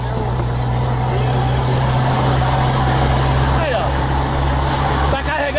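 A Volvo FH truck uprated to 600 hp, its engine revving loud and steady while the brake is held, a continuous heavy diesel drone with a hiss near the end and a voice talking over it.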